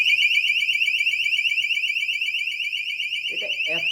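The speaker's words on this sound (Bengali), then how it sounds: "রেড লাইট জ্বলার পরে যদি এই মোশন সেন্সরটার ভিতর দিয়ে কেউ আসে, তাহলে সাথে সাথে এটি সাইরেন বাজবে" A motion sensor security alarm blares a loud, steady warbling siren close by, continuous throughout, with a voice briefly speaking over it near the end.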